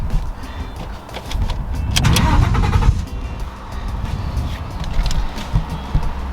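A Ford F-150 pickup from the 2011–2014 years starts up, a brief cranking surge swelling to a loud burst before the engine settles into a steady idle rumble, heard close and alone.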